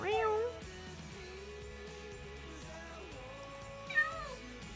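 In Minecraft, a cat meows once at the start and again near the end, with a soft voice murmuring in the quieter stretch between the two calls.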